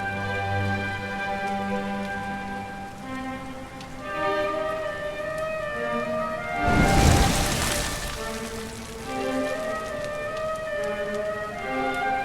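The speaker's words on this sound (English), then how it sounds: "Looks like the rain's dying down." Steady rainfall in the video game Dragon Quest XI hisses across the scene under a soft musical background, with a brief louder swell of rain midway.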